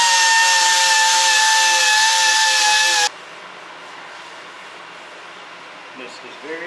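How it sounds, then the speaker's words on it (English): A wooden salad bowl is power-sanded, giving a loud, steady motor whine with a hissing abrasive edge for about three seconds before it cuts off abruptly, leaving a quiet room with faint small noises. "I'm sanding it here."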